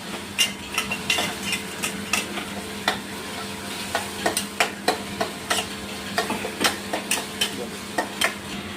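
Turmeric and homemade red chili masala stirred in a pan, with a spoon scraping and clicking in an irregular rhythm over a soft, continuous sizzle, close and alone.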